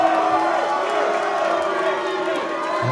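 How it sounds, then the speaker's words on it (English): Wrestling crowd at a NORTH Wrestling show booing a wrestler, a steady, loud wall of massed voices with jeering tones sustained throughout, no single voice standing out. "And the crowd are turning on Kidd once more. There's boos towards Gabriel Kidd."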